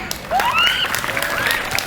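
At a school motivation session, students clap for a guest speaker, a continuous patter of applause with some high, whistle-like cheering tones over the top.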